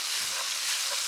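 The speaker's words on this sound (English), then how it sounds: "So this is the time to put this and the mushrooms. I'm going to saute that for a couple of minutes." Pine nuts and mushrooms sautéing in a hot pan, a steady bright sizzle and hiss running unbroken throughout, close and even, with no talking over it.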